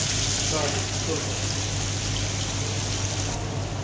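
Onions hissing and sizzling in hot fried-fish oil in a pan, a steady close crackle that runs unbroken throughout, with a voice speaking faintly over it.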